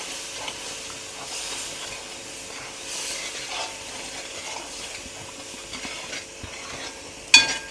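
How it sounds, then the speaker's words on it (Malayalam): A spoon stirs vinegar into food in a pot with faint scraping and soft clinks against the metal over a low sizzle, ending with one sharp, loud clank. "സുർക്ക അല്ലെങ്കിൽ വിനാഗിരി എന്ന് പറഞ്ഞാൽ ചേർത്ത് കൊടുത്ത് നന്നായിട്ടൊന്ന് ഇളക്കി കൊടുക്കുകയാണ്"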